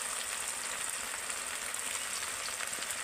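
Salt, turmeric, chili powder and chopped green chilies frying in a pan as they are stirred, a steady bright sizzle with light crackle, close and even throughout, with no talking.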